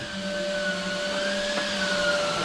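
A wallpaper pasting machine runs during kitchen wallpapering, giving a steady, loud motorized whir with a constant hum and no speech over it.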